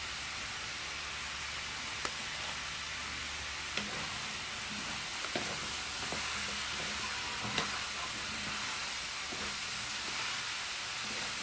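Vegetables with squash and oyster sauce sautéing in a pan, a soft continuous sizzle and hiss with occasional light clicks of stirring, faint and steady throughout.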